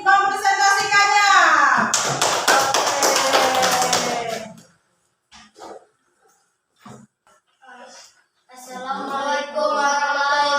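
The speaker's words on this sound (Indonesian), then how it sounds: "Ayo tepuk tangan buat kelompok kucing yang ingin mempresentasikannya." Children clap for a presenting group in a classroom: a burst of mixed, uneven applause lasting about two seconds, with voices heard before it and again afterwards.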